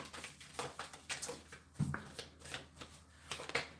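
Tarot cards shuffled by hand during a reading, soft irregular riffling and slapping bursts, close and quiet, with faint background hum and no talking.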